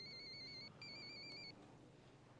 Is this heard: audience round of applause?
no